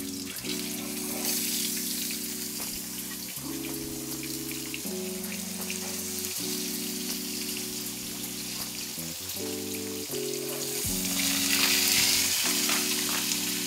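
Pork steak frying in oil gives a steady, dense sizzle that swells louder near the end, running beneath sustained musical chords that shift pitch throughout.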